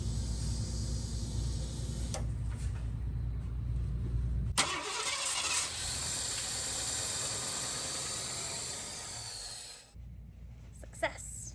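An Early Bronco engine cranks with a steady churning starter, then catches and roars into a loud, hissing run up close before dropping back, with a few clicks near the end.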